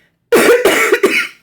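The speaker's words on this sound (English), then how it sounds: "there's this little cough that just lingers" A lingering cough after a cold: three quick, close, loud coughs in a short burst, heard alone.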